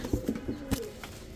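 Pakistani teddy pigeons coo close by in a pigeon loft or market, with a few soft, throaty coos in quick succession followed by a quieter call.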